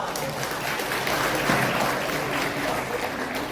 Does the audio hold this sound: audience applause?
yes